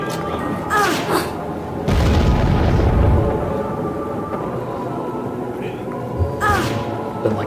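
An explosion in the video game American McGee's Alice bursts out as a loud low boom and rumble lasting about a second, with game effects and speech around it.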